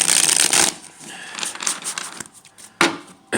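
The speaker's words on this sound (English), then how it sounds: "We're going to do a quick shuffle." Tarot cards shuffled by hand in a quick burst, a dense riffling flutter followed by softer sliding and tapping of the deck, then a final sharp snap, close and alone.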